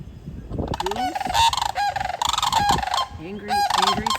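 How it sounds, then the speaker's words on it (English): Several geese honk loudly and close by outdoors in springtime wild nature, with repeated overlapping calls in bursts, a swan and sandhill cranes also nearby. "we've got also a swan and a goose"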